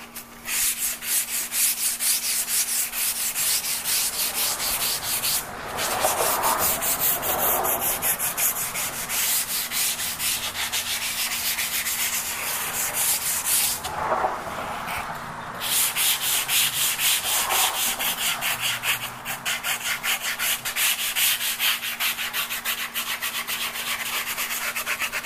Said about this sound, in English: I mean by sanding the top